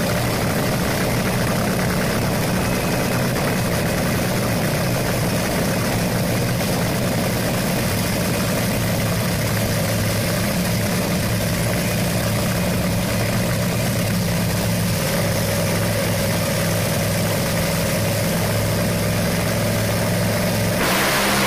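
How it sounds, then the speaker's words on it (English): A Top Fuel dragster engine idles before a qualifying run at Epping, a loud, unbroken, rough mechanical roar held close and steady throughout. "we're lining up against Doug Coletta in our last qualifier at Epping here, so hopefully we can go A to B"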